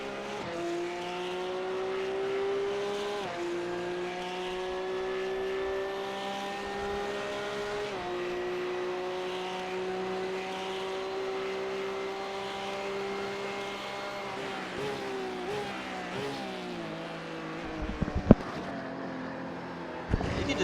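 Porsche Cup race cars lap Circuit Gilles Villeneuve, their engines holding a steady, rising and falling high-revving whine that shifts through gears over about twenty seconds, with a few sharp pops and bursts near the end.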